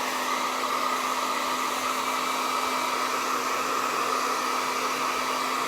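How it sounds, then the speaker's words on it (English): A hair dryer blows steadily on a freshly made painting, a continuous even whir with no breaks and no voices. "I'm going to go ahead and put the hairdryer on this and make sure it's dry"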